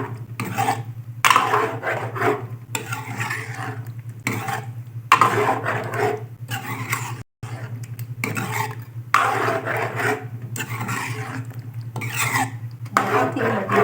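A full packet of cream is stirred into a 2 kg batch of badami white chicken karahi in a pot: repeated scraping, rubbing strokes in uneven bursts over a steady low hum, close and fairly loud.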